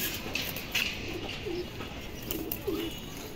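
Indian kaldom highflyer pigeons coo softly in low, rolling calls repeated a few times against a constant background hiss, with no one speaking.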